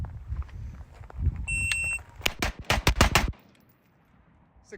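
An IWI Carmel pistol fires a fast string of six shots on a range, loud sharp cracks packed tightly together after a shot-timer beep.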